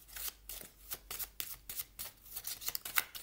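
Playing cards shuffled for a tarot-style card reading, a steady run of crisp riffling and sliding bursts over about three seconds, close and fairly quiet, with no talking.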